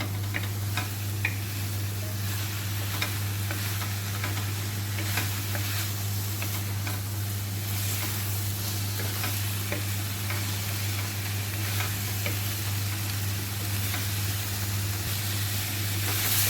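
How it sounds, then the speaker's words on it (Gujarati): Kadhai paneer being stirred with masala in a pan, a steady low sizzle over a constant hum, with light, regular tapping strokes of a spoon. "મસાલો સારી રીતે સબ્જીમાં બધામાં કોટ થઈ જાય, પનીરમાં બધા, એવી રીતે આપણે મિક્સ કરી લઈશું."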